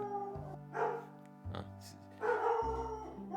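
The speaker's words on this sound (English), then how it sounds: "That's just my dog Caesar." A dog barks and yips close by in a few short bursts over a whiny, wavering tone.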